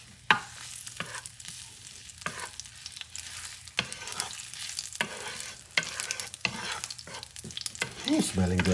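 Ginger stir-fried in a pan for a seafood ramen, a crackling sizzle broken by repeated scraping stirs and clacks of a utensil, fairly close and with no talking.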